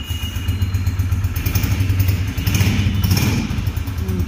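A Honda 125 motorcycle engine runs steadily nearby, a low throbbing idle with slight rhythmic pulsing and no voices.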